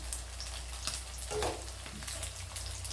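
Riceberry rice balls dipped in egg fry in hot oil, a continuous close sizzle with a brief louder burst of spattering midway and no voices.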